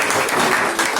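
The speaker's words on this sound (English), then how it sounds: "And please a round of applause for" Audience applause at the end of a hackathon briefing session, a short steady burst of many hands clapping, loud and close throughout.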